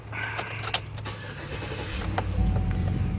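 A 2007 Chevy Suburban 1500 LTZ engine cranks and catches after repair work on its fuse block, the starter whir and ignition building into a steady idle rumble, loud and close, with a few clicks and a motor whine early on.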